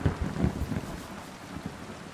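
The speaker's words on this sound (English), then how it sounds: "loud crack of thunder" Thunder rolls and rumbles amid rainfall in the game Kingdom Come: Deliverance 2, a low booming crack up front that fades into a steady wet hiss, with no voices.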